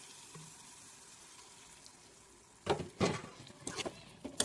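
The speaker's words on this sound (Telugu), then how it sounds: "ఇప్పుడు ఇందులో కొంచెం అంటే కొంచెం వాటర్ యాడ్ చేసుకొని 2 నిమిషాలు ఫ్రై చేసుకోండి" A small splash of water goes into a simmering ridge gourd and dried shrimp curry: a quiet pan first, then several short close splashing bursts.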